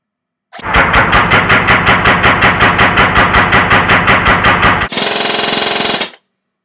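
A Magpul PTS Masada ACR airsoft gun fires a loud, close burst of about a second and a half, a rapid even stream of mechanical cracks, followed by a brief, even faster and harsher second burst.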